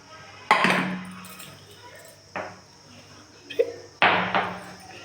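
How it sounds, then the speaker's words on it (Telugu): Garlic is pounded in a small stone mortar with a few separate thuds, three or four close, moderately loud knocks spaced unevenly, with a faint voice in the background. "ఇలా చిన్న రోట్లో తెల్లవాయిలను దంచేస్తా ఫ్రెండ్స్, కొంచెం కచ్చా పచ్చాగా"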